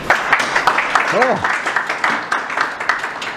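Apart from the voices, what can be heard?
audience applause before a talk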